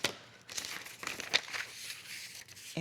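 Paper blouse pattern being folded back and trimmed into the armhole, close crinkling and crisp tearing-like rustles in irregular bursts, with a sharper snip near the middle and no talk.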